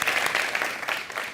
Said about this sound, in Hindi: चलिए करण के लिए जोरदार तालियां